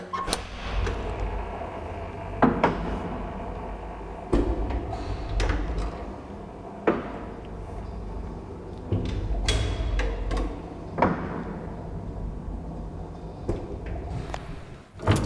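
Inside a 1954 Kone traction elevator in an apartment building on Riihitie in Munkkiniemi, Helsinki, the car runs with a steady low rumble, broken by several sharp clicks and clunks of relays and doors spaced through the ride.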